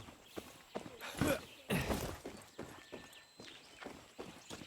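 Rhythmic horse hoofbeats in the video game Far Cry 6 clop along at a walking pace, with a few louder strikes and a faint background hum, no voices.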